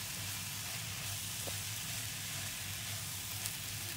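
Vegetables and mushrooms sizzle and fry in a pan for Moroccan stuffed msemen filling, a steady close crackling hiss throughout with a faint utensil tap midway.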